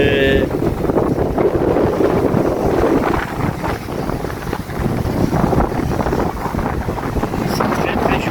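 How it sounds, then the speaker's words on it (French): Strong wind buffets the microphone on a road trip near Vannes on the Brittany coast, a loud, constant roaring rumble that smothers everything for the whole stretch. "il y a beaucoup de vent là"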